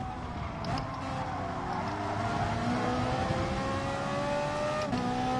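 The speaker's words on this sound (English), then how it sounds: "Oh, it sounds nice as well, a Ferrari." A Ferrari Group 4 race car in GT Sport drives flat out, its engine holding a loud, steady, rising whine as it climbs through the revs, with a couple of sharp gear-change breaks along the way.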